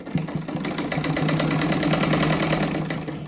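Sewing machine stitching a cushion hums steadily and loudly at close range for several seconds, its motor whirring with a fast rhythmic needle clatter after a brief start-up.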